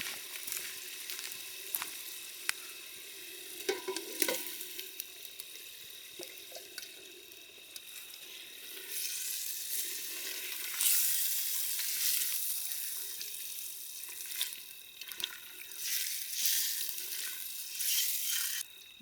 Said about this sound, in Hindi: जस्ट थोड़ा मसाला में फ्राई हो जाए फिर रेडी।